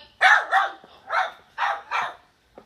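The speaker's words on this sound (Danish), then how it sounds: "Der har vi en lille gal hund en gang imellem." A small dog barks five times in quick, uneven bursts, fairly close and clear, with short pauses between the sharp yaps and no talk over them.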